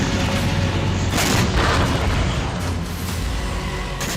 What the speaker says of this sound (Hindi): दक्षिणी लेबनान में भीषण बमबारी कर आईडीएफ इस तरह से हिजबुल्लाह के ठिकानों को तबाह कर रही है